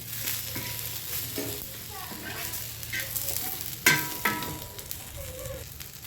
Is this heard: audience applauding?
no